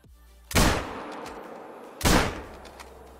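Two loud rifle gunshots about one and a half seconds apart, fired at a musk deer in a hunting video game, each a sharp close crack with a short echoing tail over a quiet outdoor background.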